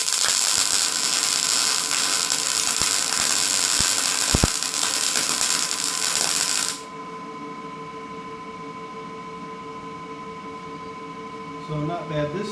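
A Power MIG 210 MP MIG welder runs a bead on thick, rusty steel with a loud, steady crackling hiss that cuts off abruptly partway through, leaving a faint hum and some light handling noise.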